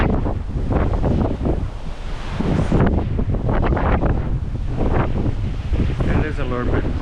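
Breeze buffeting a microphone on a hotel balcony at dusk in Skagway, a steady loud rushing roar with gusty swells that swamps everything else.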